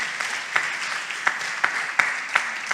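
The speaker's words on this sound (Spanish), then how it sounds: "denle ese aplauso a Dios fuerte" Congregation applause during a church service, a steady ripple of clapping from many hands with a few louder, sharper claps rising above it.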